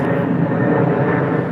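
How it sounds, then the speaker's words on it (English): Airplanes pass overhead near an airport while someone waits at a bus stop, a steady broad engine roar filling the whole stretch with no voices. "you hear the airplanes going by"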